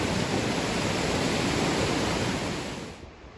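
A river rushes in a steady, dense roar of flowing water, loud and continuous before fading out near the end.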